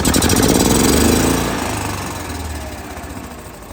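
A gas Club Car DS golf cart engine runs rough, a loud uneven knocking chug close by that gradually fades and softens.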